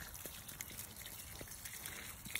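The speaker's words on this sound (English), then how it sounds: "I'm watering my hedge right now" Water trickles and splashes steadily onto a hedge from a garden watering, a soft continuous running stream with faint dripping, no voices.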